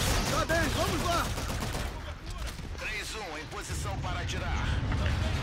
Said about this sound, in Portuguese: Tomando tiro aqui